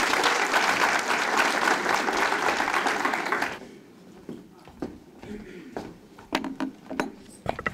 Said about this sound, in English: Let's give them a resounding round of applause.